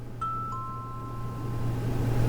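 A steady low electrical hum fills the room while two bright, sustained chime tones ring out one after another, a short electronic store jingle from a horror video game over indoor store ambience.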